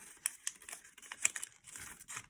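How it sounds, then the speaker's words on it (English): Paper crinkling and creasing in a quick series of soft, close, irregular rustles as an origami fighter jet is petal-folded by hand, with no talking. "now you're able to full petal fold it"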